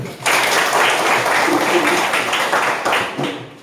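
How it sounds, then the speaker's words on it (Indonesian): Applause from a class audience at a coding and artificial-intelligence teaching session, a dense steady wash of clapping that runs at even strength for several seconds, with some voices mixed in. "berikan tepuk tangan"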